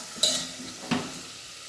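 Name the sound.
khichdi frying in oil in a pan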